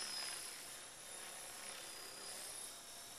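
EXI 450 RC helicopter flying aerobatics at 2300 RPM, a steady, faint, high-pitched rotor whine and buzz held throughout, heard from a distance with no voices.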